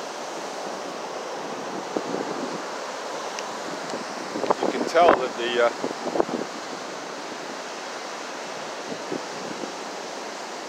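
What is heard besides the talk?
ocean waves on the beach at high tide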